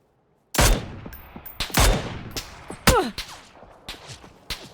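Several sharp gunshots crack in an irregular series in PUBG, loud and close, each trailing off into a short echo.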